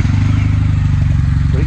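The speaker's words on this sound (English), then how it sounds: "So it sounds like an old school motorcycle. Even with the stock exhaust on." A Kawasaki W800 motorcycle engine with its stock exhaust idles close by, a loud, deep, steady thumping pulse with an old-school character.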